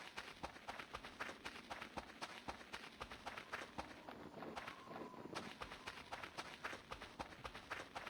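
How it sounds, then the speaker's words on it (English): Quick, regular footsteps in the game Voices of the Void sound at a running pace, each step a soft thud repeating evenly across the whole stretch, steady and close, with no talk. "It might have just been my footsteps."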